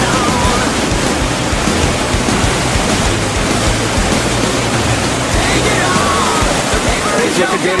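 Class 4 whitewater of Castle Rapids on the Kipiwa River roars as a loud, continuous, dense rush that fills the whole scene without pause.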